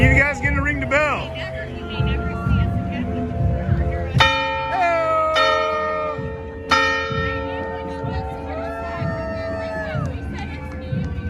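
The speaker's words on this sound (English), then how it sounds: "See you guys getting to ring the bell." A bell rings out at the 59th annual Waukesha Christmas parade, with two loud, sustained strikes that hang over steady crowd chatter and nearby voices.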